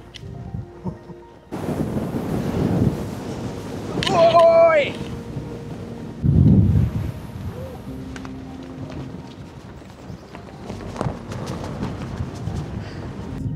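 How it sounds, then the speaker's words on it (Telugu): Strong wind blasting a person standing on an open rock outdoors, gusty roaring rumble against the microphone that rises and falls in surges, with someone talking over it. "ఎంత స్పీడ్ ఉంది విండ్."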